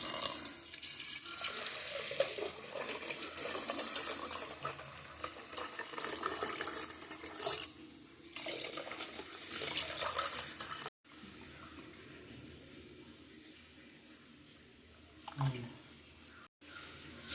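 Water runs steadily into a pressure cooker holding peas, beans, potato and carrot for Bangalore-style bisi bele bath: a continuous splashing pour for about eleven seconds, then quieter with a brief splash near the end.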